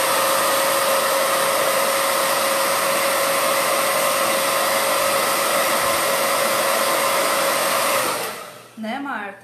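A hair dryer blows loud and steady for about eight seconds to dry paint on wooden crates, then cuts off and winds down, leaving a short quiet tail.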